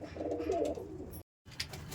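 Saharanpuri pigeon held in hand, giving close, low cooing in a steady stretch, a brief silent gap, then quieter cooing with a faint chirp.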